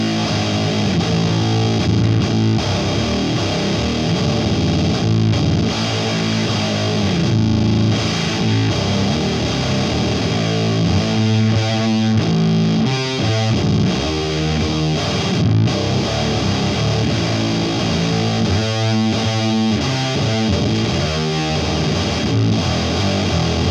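First Act Custom Shop DC-6 electric guitar played through distortion, a sustained overdriven chordal passage with bursts of fast picked notes and strummed accents, loud and continuous with no talking.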